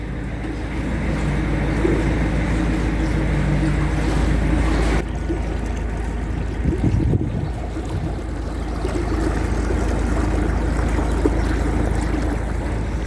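A canal boat cruises slowly beneath Egg Bridge on a narrow waterway, its low steady engine rumble continuous throughout, with wind buffeting the microphone and a brief shift in tone midway as it passes under the bridge.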